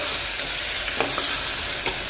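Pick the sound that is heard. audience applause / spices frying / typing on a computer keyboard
spices frying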